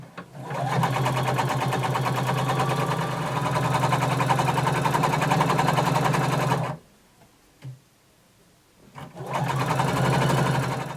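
A sewing machine stitches a 5/8 inch turned hem around a flared skirt, running in a fast, steady mechanical whir for several seconds, stopping, giving one brief burst, then resuming, close and alone.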